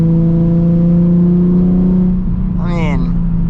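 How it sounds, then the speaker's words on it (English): Inside a 2007 Nissan 350Z HR fitted with a Megan Racing exhaust, a loud, steady low engine drone hums while cruising, with a brief voice near the end. "Here's the drone with the Megan Racing. It's not terrible, but it's definitely loud."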